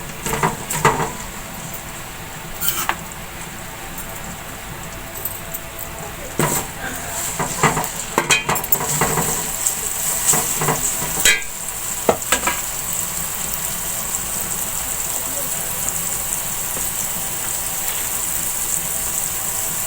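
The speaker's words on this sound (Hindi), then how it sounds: "अब इसको मैं थोड़ी देर भून लूंगी" Garlic paste sizzles in a pan while a spoon scrapes and clinks against it now and then, with a steady frying hiss throughout.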